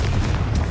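A Confringo spell blast in Hogwarts Legacy, a short dull boom lasting under a second, loud and close.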